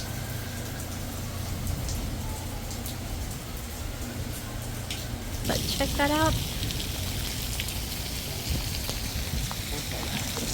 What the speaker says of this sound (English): So look at this rain, guys.